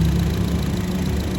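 The engine of a 2020 Honda HR-V SE Matic runs at idle with a steady, close, even hum and fine vibration throughout, with no talking over it.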